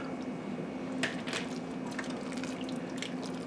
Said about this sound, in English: I'm going to go ahead and add my ATB pinto beans to it